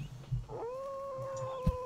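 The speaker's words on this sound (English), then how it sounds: "There's a lot of meowing and hissing." An adorable attack cat creature in the video game CHKN gives a drawn-out meow-like cry lasting over a second, with brief rough hissy bursts around it over a steady background hum.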